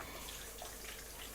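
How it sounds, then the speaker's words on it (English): Water poured into a non-stick pan in a home kitchen, a faint, steady hissing splash that continues evenly, with no talking over it. "into this we're going to pour some water"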